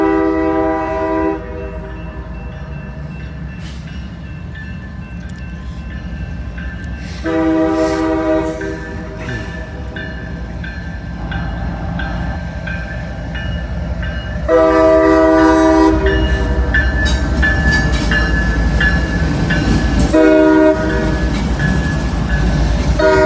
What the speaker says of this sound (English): that horn sounds clogged up.